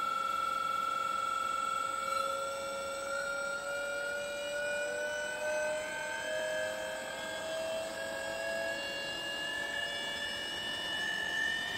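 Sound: induction motor driven by inverter spinning

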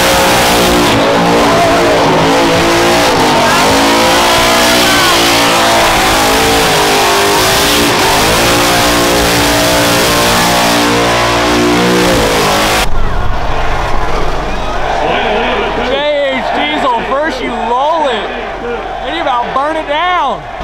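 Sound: race car revving during burnout event

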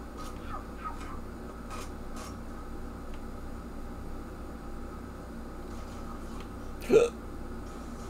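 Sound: hiccups

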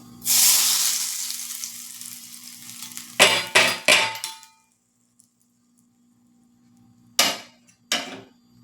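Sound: hot mustard seed tempering sizzling into gram flour batter

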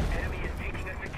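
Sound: gunfire in the video game Ironsight

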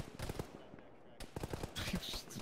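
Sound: gunfire in a video game

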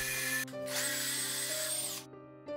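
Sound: power drill pre-drilling screw holes in 2x4 lumber

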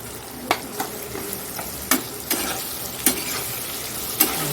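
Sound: turmeric-spiced food frying and sizzling in a pan

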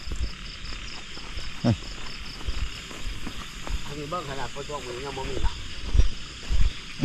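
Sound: frogs croaking

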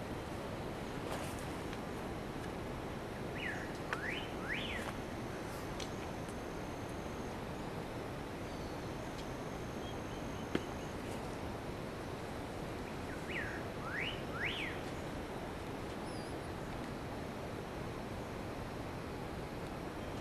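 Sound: birds calling in quiet mountain forest on trek

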